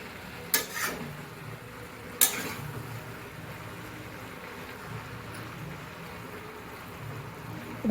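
Fish head and cabbage are stirred in a cooking pot, with two sharp scraping clatters of the utensil followed by a steady low sizzle and simmer, nearby and without talk.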